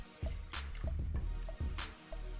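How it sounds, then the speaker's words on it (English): Half and half poured into a butter-flour paste for a mac and cheese cream sauce, heard as wet drips, squishes and liquid splashes in several short bursts, close and fairly loud with no talk. "you wanna go ahead and pour in 1 cup of your half and half"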